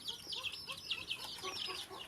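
Caged birds bred for competitions on a farm in Thailand cluck and chatter in a continuous, busy stream of short, bright calls, moderately close, with no talking.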